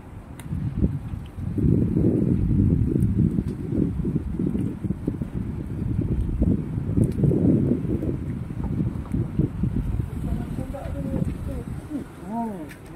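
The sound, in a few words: wind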